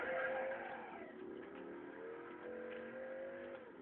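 Engine of a car driven in the video game Driver 2, a steady revving drone with shifting pitch as it accelerates and eases off, loud and continuous with no talk over it.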